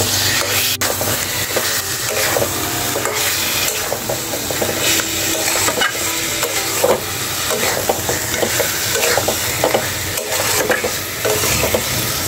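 Goat meat with two whole garlic cloves fries in a pan, a loud continuous sizzle with busy scraping and stirring throughout, close up and without any voice.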